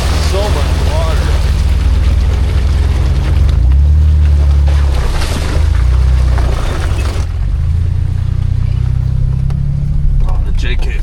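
A Jeep JK on a flooded off-road trail, its engine droning loudly and steadily as the tires churn and slosh through water, with a voice talking over the rumble.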